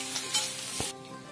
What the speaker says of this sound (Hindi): आलू को हमने 2-3 मिनट तक फ्राई कर लिया है